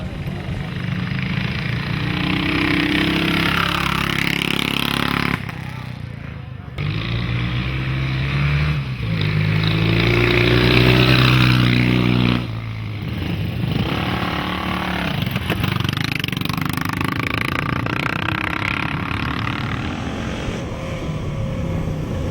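Several Gold Star motorcycle engines running at Brooklands, a continuous loud mechanical drone that shifts in pitch as engines rev up and settle, with overlapping machines near and slightly farther off.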